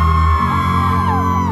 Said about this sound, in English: All my beautiful ladies, can you scream for me